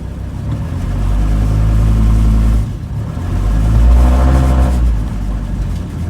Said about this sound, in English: If you think it's pretty loud, that's because it has no mufflers.